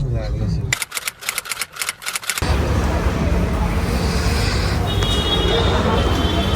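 Road traffic in Lonavala comes through as a steady roar of vehicles and engines. It starts after a brief stretch of rapid clicking, and people talk over the noise.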